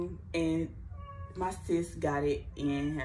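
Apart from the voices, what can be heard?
cat meowing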